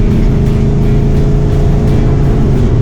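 A Ford Mustang on a race track accelerating hard, a loud, steady engine roar heard from inside the car, droning continuously throughout.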